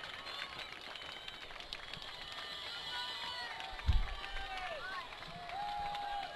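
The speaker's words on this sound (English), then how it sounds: "Crowd's getting into it" Crowd at a spring varsity high school football game between Cambridge Christian and Calvary Christian, a steady roar of cheering and crowd noise with a few whistle-like tones and a brief thump near the middle.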